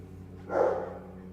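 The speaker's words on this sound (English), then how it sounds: "The dogs barking at some point." A dog barks once in the background of an indoor home setting, a short muffled burst standing out briefly over a steady low hum.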